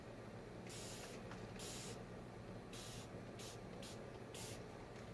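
Several short hissing bursts from a spray bottle onto a chalk-painted china cabinet, irregularly spaced, over a steady low background hum.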